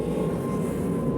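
A fixed-wing aeroplane passes overhead, a loud, steady broadband engine roar with a faint whining tone that holds level throughout and is heard alone, with no speech.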